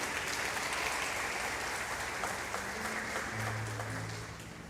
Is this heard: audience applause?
yes